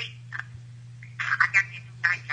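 A telephone rings in a church drama scene: short electronic trilling bursts come in uneven clusters over a low constant hum, fairly close and moderately loud.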